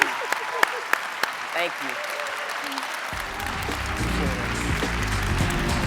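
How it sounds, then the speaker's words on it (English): A lecture-hall audience at a memorial symposium breaks into loud, sustained applause that swells and fills the room, while someone says a few brief words near the start. "let's give Dr. Alexander another round of applause, please."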